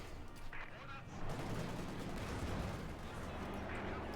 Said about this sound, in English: A few rockets are landing on the T-70.